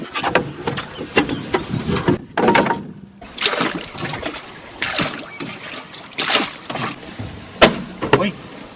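Water being pumped or bailed out of a leaking boat on a river, heard as irregular trickling, splashing and sloshing bursts with mechanical knocks, close and moderately loud, broken by short gaps.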